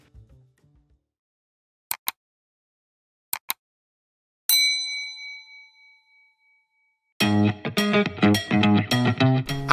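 A bright notification bell dings several times, first as two pairs of short metallic taps and then as one longer ringing ding that fades out, alone in near silence before a burst of music starts.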